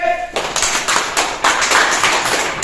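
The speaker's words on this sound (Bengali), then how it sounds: "তাহলে হাততালি কে দেবে" Students in a government school classroom clap together in dense, steady applause lasting a couple of seconds, loud and close.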